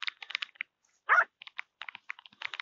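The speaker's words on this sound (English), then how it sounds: "He just kind of barks and grabs at him." A cattle dog gives a single short, loud bark, close by, while cattle are penned on foot. Quick, light clicking ticks surround it.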